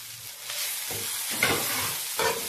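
Onions drop into hot oil with dried prawns and hiss loudly, followed by scraping stirs and bursts of sizzling that rise and fall.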